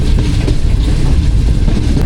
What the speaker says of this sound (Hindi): पाकिस्तान एक्सप्रेस आ रही है जी U40 के साथ 9018